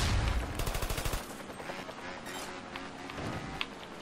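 Rapid automatic gunfire from the video game Trials of the Blood Dragon rattles loudly for about a second, then gives way to scattered, quieter shots and game noise.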